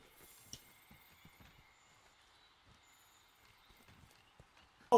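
Hoofed footsteps of a pig mount being ridden in Monster Hunter World thud in a quick, uneven clip-clop rhythm at moderate volume, with game ambience underneath and a sudden loud burst at the very end.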